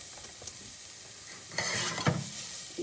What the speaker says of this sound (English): You hear that sizzling away.